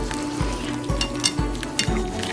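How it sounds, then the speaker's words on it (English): A creamy garlic parmesan sauce bubbles at a boil in a pan while a spoon sweeps through it in four evenly spaced, nearby scrapes over a constant simmering hiss. "I'm gonna give it a good stir."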